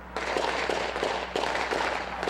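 Several sharp bursts of gunfire crack out in quick succession during a police standoff with a robbery suspect, loud and echoing against a dense, noisy background.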